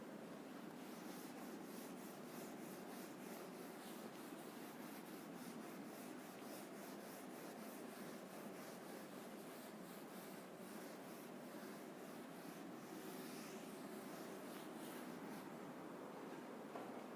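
Writing being rubbed off a classroom board during a chemistry lesson: a continuous, even, scratchy rubbing texture that runs unbroken for many seconds, faint and with no talking.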